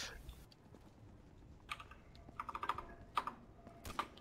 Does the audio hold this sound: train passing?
no